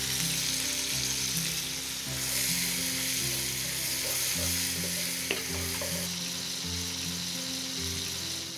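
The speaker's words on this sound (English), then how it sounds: "I just want the turkey to be lightly sauteed, not too much color" Turkey with onion and garlic sautéing lightly in a pan, a dense, steady sizzle up close with a single sharp tap midway, no talking.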